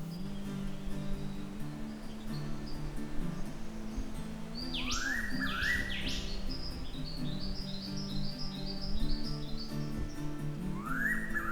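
A russet-tailed thrush calls in Eungella rainforest, sending a few clear rising and falling whistles over a backdrop of other birds and forest ambience, near and distinct.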